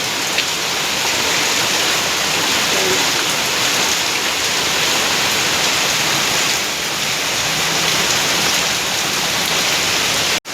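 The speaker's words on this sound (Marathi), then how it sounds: "आज बघा भरपूर पाऊस असा पडतोय आमच्या इथे, जोरदार पाऊस आहे" Heavy rain pours down in a steady, dense roar, loud and unbroken from start to finish with no voices.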